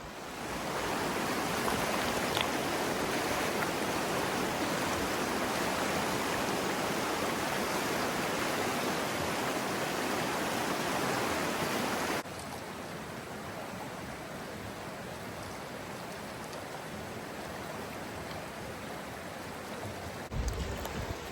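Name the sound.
flowing river during spring snowmelt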